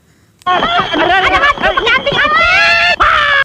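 A man and a woman scream together in a comedy film scene set in a hotel in Puncak, loud and close, with shrill overlapping voices sustained for about three seconds after a quiet start.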